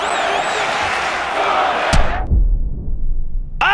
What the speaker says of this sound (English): The crowd rallying behind Chael Sonnen.